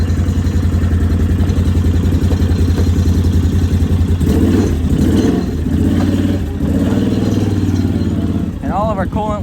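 A Can-Am Outlander 800 ATV fitted with a CV Tech clutch kit runs loud and close, its engine chugging steadily with rhythmic revs and throttle surges, clattering mechanical noise, and a brief squeal near the end.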